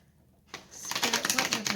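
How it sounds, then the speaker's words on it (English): Tarot card deck being shuffled, a quiet pause and then a quick, close riffle of rapid crisp card flicks lasting about a second. "I'm going to shuffle one more time"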